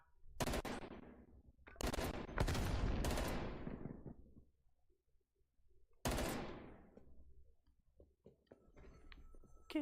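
Bursts of gunfire crack out during a gunfight, a few heavy volleys in quick succession with a loud cluster near the start, a pause, then another burst followed by faint scattered clicks.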